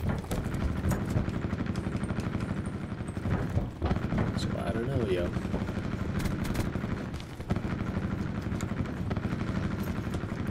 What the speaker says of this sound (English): what the heck is my attack chopper doing? It's shooting constantly